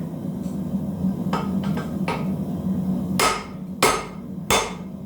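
Hammer strikes on hot metal drawing a taper on the anvil, a few lighter taps followed by three sharp ringing blows spaced under a second apart, close and loud over a low steady background hum.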